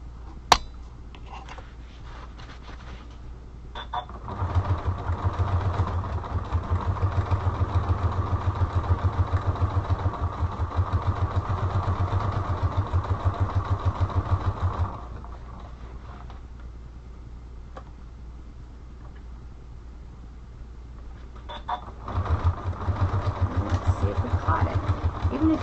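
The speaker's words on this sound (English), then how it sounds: "A little back stitching, and then just stitch right along the sewn" A sewing machine back-stitches and then stitches along a sewn line on a spiral notebook cover, running in two steady bursts of rapid mechanical chatter separated by a quieter pause, close up and with no talking.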